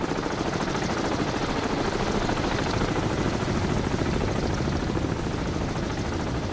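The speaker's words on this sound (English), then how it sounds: "Yeah, here come the choppers again." Helicopters close in during a submarine game set in the 1984 Cold Waters campaign, a dense, steady rotor-and-engine wash filling the whole stretch at constant level with no talk over it.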